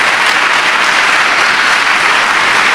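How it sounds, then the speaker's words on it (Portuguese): A church congregation claps loudly and continuously at a book launch on depression among pastors, with dense, even applause filling the room throughout. "E as palmas são para Jesus."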